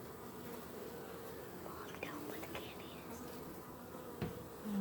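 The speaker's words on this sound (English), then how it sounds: "the worker bees are going to eat her out of there within a day or two" Honey bees hum in a soft, steady drone during the installation of a package of bees into a hive, faint and close, with occasional quiet handling sounds.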